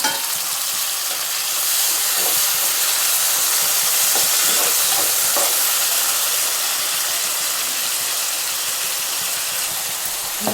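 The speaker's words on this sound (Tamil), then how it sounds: "இப்போ தான் தக்காளி வெங்காயமும் நல்லா வதங்கி வரும்" Tomato and onion sauté loudly in a pan for a chana dal dumpling kuzhambu, a dense, continuous sizzle and hiss with faint stirring scrapes throughout.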